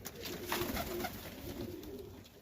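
Young pigeons, a couple of months old, coo softly inside a loft, a faint, low murmur of a few calls against a quiet background with no talking.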